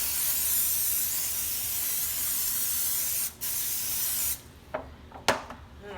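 Cooking spray hissing onto a foil baking pan in a home kitchen, one continuous close spray burst of about four seconds, then cut off, followed by a few light taps and handling sounds.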